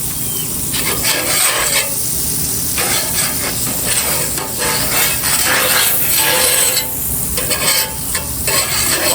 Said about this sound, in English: Whole stick of butter gets hot and melts.